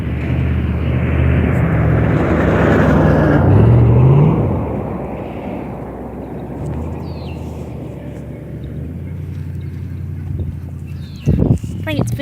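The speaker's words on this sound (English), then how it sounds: "There's a car coming by." A car approaches and passes on a road, a loud swelling roar that peaks near the middle, then fades to a steady rumble, with people talking nearby.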